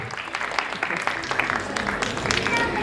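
Audience applause breaks out at an awards inauguration ceremony, scattered crisp claps building into a steady round of clapping, with voices talking over it.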